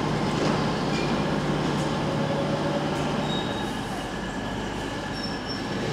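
A train rumbles close by as it arrives at a station, wheels squealing in drawn-out high tones over a steady low mechanical drone as it rolls in.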